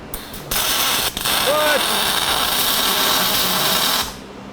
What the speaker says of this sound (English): I've never seen the color of an aluminum MIG arc before.